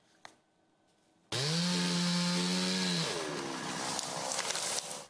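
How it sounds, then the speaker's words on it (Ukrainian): Petrol chainsaw cutting firewood in a Zaporizhzhia forest, roaring in loud and steady after a quiet pause, its pitch dipping and rising as it bites into the wood, close and continuous. "У цьому лісництві бензопили загули лише кілька днів тому."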